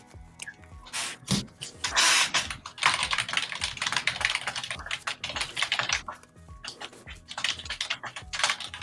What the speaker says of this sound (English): I'm a very very fat emphatic. typer and I have a very clacky keyboard.